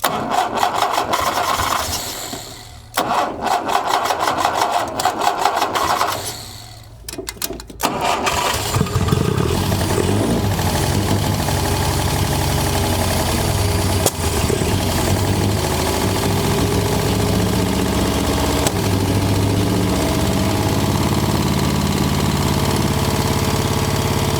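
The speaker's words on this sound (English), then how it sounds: "I was trying to just get it to idle down, so I'm pretty sure that's a choke." An abandoned 1960 Mercedes-Benz engine cranks with choppy starter bursts and stalls twice, then catches and settles into a loud, steady, slightly rough idle that runs on unbroken, recorded close.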